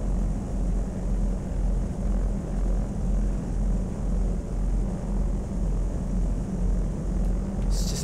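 Steady propeller aircraft engine drone in the Flight Sim World game as the plane slows for a descent into early-morning fog, a loud continuous hum with low rumble throughout.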